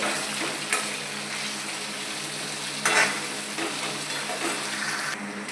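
Potatoes and poha frying in a pan give a steady, close sizzle with stirring scrapes, a couple of louder stirring bursts breaking the even crackle.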